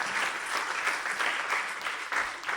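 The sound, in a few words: congregation applause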